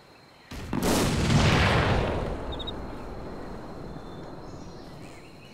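A tank cannon fires in a Peleliu Island battle game: one sharp, loud blast that swells into a long rumbling boom and slowly fades over several seconds, with no voices.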